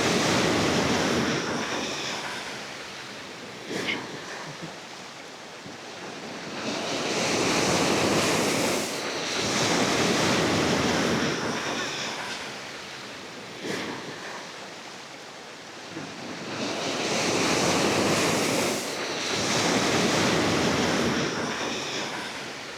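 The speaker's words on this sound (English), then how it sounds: "Look at the waves." Surf rolls onto a swimmable beach in Paphos, Cyprus, loud and close, with several big wave swells rising and fading in a slow rhythm under gusty wind on the microphone.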